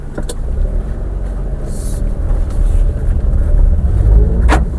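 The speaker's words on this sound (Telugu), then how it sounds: "టెస్ట్ డ్రైవ్ అయితే చేస్తున్నాము స్మూత్ రన్నింగ్లో ఉందండి" A 2015 Maruti Alto with 67k on the clock runs smoothly on a test drive, heard as a steady, close low engine and road drone with a couple of brief clicks and no talking.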